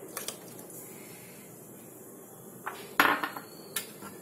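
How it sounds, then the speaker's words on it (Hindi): Grated carrot and cucumber being added to a bowl for raita, faint soft rustles followed by a few close clinks of a utensil against the bowl, no talk. "अब हम इसमें कैरेट डालेंगे ग्रेट की हुई, कुकुम्बर ग्रेट किया हुआ डालेंगे"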